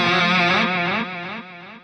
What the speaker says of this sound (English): I've also got delay number 1 set up just for a straight rhythmic dotted eighth delay synced